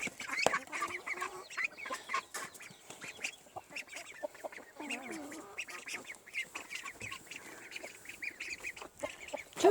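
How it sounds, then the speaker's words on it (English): Cochin chickens, roosters and hens, clucking and squawking close by, a busy mix of calls from several birds throughout, with no talking. "Two roosters, 3 hens."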